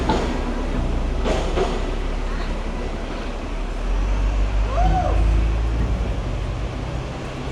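A train arrives at a Hong Kong station, rumbling steadily with a low mechanical drone, a brief rising squeal midway, and faint voices in the background.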